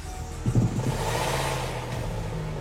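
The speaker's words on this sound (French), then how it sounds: "Le démarreur fonctionne impeccablement, le moteur démarre." A Citroën DS3's starter motor cranks briefly and the engine catches, settling into a steady close idle for the rest of the moment.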